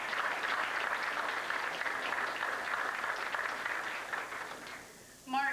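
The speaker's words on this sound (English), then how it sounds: "we give you a round of applause" Audience applause at a youth banquet, heard as a dense, even round of clapping that holds steady, then fades off near the end as a voice begins.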